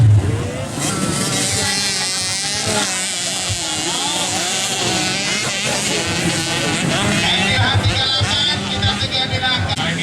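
Motocross motorcycle engines of young riders rev hard and whine continuously, pitch rising and falling as the bikes race by, with a commentator talking over the roar.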